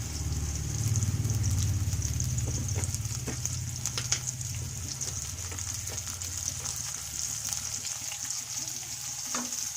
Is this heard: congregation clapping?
no